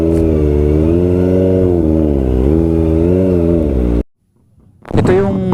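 A motorcycle engine at a motor show holds a steady, loud idle with a wavering pitch, then cuts out briefly before revving back up sharply.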